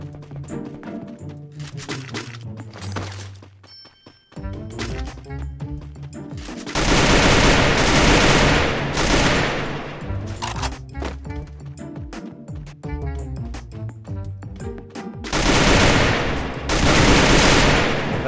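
Bursts of automatic gunfire in the battle royale game Free Fire, loud sustained volleys separated by quieter stretches of game sound and a player talking, with the heaviest rattling strings near the middle and end.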